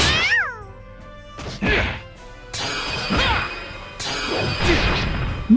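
Cartoonish cat meows from the video game Disgaea 4, several distinct mews in quick succession with a thump or crash between them, loud and close.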